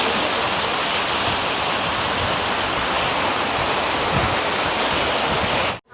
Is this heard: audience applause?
no